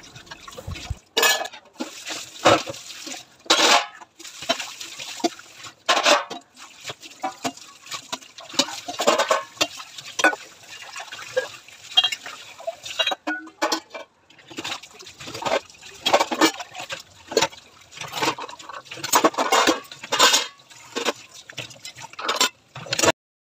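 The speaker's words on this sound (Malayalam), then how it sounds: "പാത്രങ്ങളൊക്കെ ഞാൻ ഒന്ന് കഴുകിയെടുക്കട്ടെ" Dishes, pots and pans being washed under running water, with bursts of splashing and trickling water and occasional clinks of utensils, close and intermittent and separated by quieter pauses.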